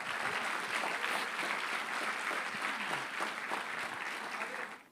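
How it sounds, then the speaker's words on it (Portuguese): A church congregation applauds during a sermon, steady full clapping that fills the room and tails off near the end. "Aplauda o nome dele, ele merece."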